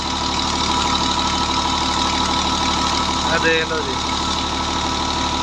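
A Romanian-made Farmer 533 tractor engine idles loudly and close by with a steady rhythmic chug, while someone talks briefly over it.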